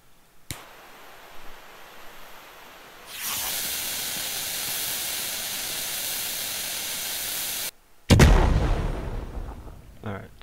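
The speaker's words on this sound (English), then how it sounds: "still it's just the singular explosion" A firework in the video game Fireworks Mania, heard as a long loud hissing fuse or spray lasting several seconds, then a brief silence and a single sharp explosion that fades with crackling debris.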